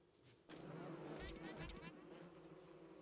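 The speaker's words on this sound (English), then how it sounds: "there's a beehive" Droning insect buzz from bees swarming around a beehive in the survival game Don't Starve Together, a steady warbling hum that holds through the clip with faint game sounds beneath.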